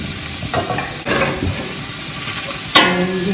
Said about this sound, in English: in goes your onion, and in goes your ginger and garlic